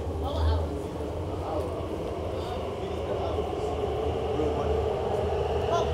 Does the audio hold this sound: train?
yes